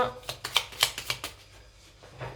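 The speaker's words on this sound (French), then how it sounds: "Et je vais prendre une dernière carte." Tarot cards handled and drawn from a deck, a quick run of crisp papery snaps and slides over about two seconds, close and fairly quiet, with a faint voice in the background.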